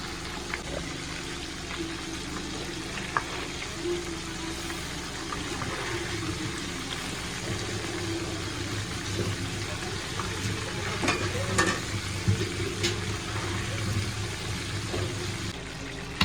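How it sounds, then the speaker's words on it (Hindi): Food deep frying in hot oil on a home stove, turned so both sides go golden, with a steady broad sizzle running throughout and a few soft utensil clicks and bumps, no talk. "इसको डीप फ्राई करेंगे आराम से, दोनों तरफ से ना गोल्डन कर लेंगे"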